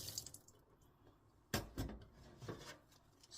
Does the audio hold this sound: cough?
no